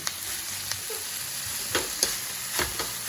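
Beef mince sizzles steadily in a non-stick wok while a potato masher breaks up the clumps, giving several soft, close scraping thuds over the frying hiss.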